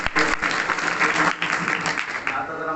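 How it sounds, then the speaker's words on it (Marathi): An audience at a Marathi kirtan on episodes from Shivaji's life breaks into clapping for the sound system, a brief burst of many hands that is dense and close and carries on steadily for a few seconds. "आता साऊंड सिस्टीम साठी एकदा टाळ्या वाजवा."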